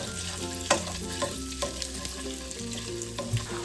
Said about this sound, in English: Add some oil to a pan and lightly brown the quail eggs over medium heat.